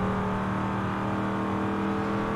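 A Chevy Nova engine in Forza Horizon 5 drones loud and steady, holding a constant tone with no pauses and no talking.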